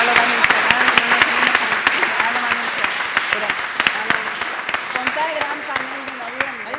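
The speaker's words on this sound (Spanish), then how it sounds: "le pedimos un fuerte aplauso a los protagonistas también" Audience applause for panel speakers at a university event fills the room, steady clapping from many hands with sharp individual claps standing out, a few voices murmuring underneath.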